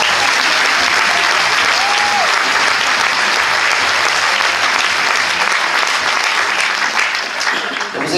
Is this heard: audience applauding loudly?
yes